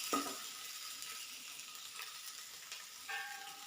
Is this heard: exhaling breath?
no